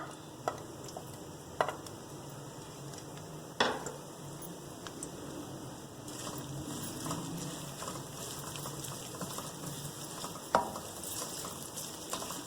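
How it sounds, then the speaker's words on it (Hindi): Onions browning in hot oil give a steady, quiet sizzle, broken by occasional sharp clinks of a spoon against the pan. "ऑयल में हम प्याज ब्राउन करेंगे, तो हम प्याज ऐड करते हैं।"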